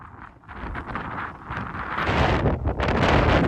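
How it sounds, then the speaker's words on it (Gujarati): Strong wind roars and buffets close against the microphone on a Girnar mountain climb, swelling louder over a few seconds with no voices. "પવન છે જોરદાર."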